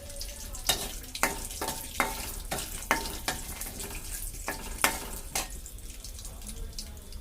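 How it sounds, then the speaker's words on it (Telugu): Peanuts fry in a bowl with a steady sizzle, broken by a series of sharp clinks and scrapes from stirring at irregular intervals, close and fairly loud. "ఇప్పుడు ఆ బౌల్లోనే మనం పల్లీలు వేపుకొని ఫ్రై చేసుకుందాం"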